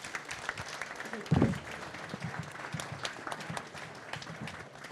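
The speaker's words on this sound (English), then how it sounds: "I think we can give our guest speakers a big applause" Audience at a lunch debate on small modular reactors applauds the guest speakers, a moderate, steady patter of clapping across a room with a brief louder burst early on and faint voices mixed in.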